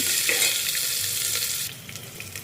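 Onions frying in hot oil for chickpea kurma, a loud, close, continuous sizzle with soft stirring sounds, easing slightly before a sharp clink at the very end.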